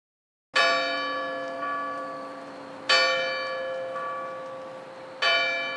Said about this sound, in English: the hour bell sounded, which it now did with a deep, dull, hollow, melancholy 1